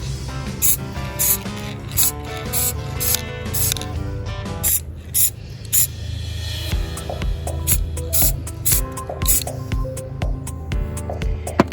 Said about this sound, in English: I'm going to go ahead and give it a little spray